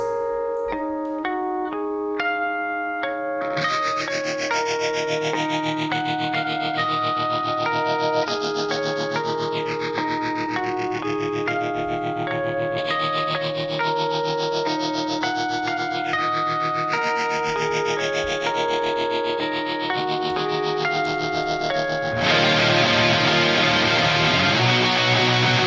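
A clean electric guitar tone from a Fractal FM3 plays sustained chords and melodic lines, with a tremolo effect joining partway through, then a brighter, fuller passage toward the end, all steady and loud.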